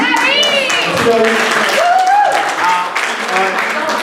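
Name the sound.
audience applauding Larry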